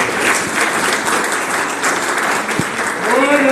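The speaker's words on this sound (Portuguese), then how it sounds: "Recebo o nosso pastor presidente com a linda salva de palmas para o Senhor Jesus Cristo" Church congregation clapping for the pastor, a dense, loud, sustained wall of applause filling the room, with a voice rising faintly near the end.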